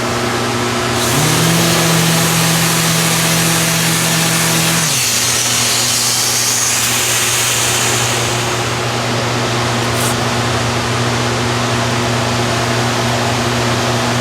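A Makita sander fitted with Abranet mesh abrasive runs with vacuum dust extraction, giving a steady whirring drone with a brief pitch shift early on, loud and close throughout with no talking.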